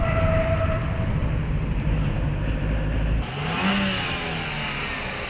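Cabin noise inside a moving Renault Kangoo Express 1.9 dCi panel van, a loud low road and engine rumble that drops abruptly partway through, then a quieter rattling drone with a brief tonal whine.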